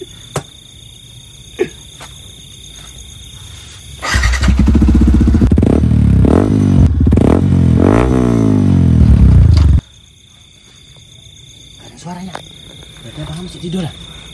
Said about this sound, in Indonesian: Kita nyalain motornya.